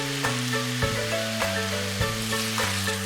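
Garlic, sliced carrots and chicken frying together in a pan for chicken plov, a steady sizzle with stirring scrapes and clinks running throughout, fairly close and alone without talk.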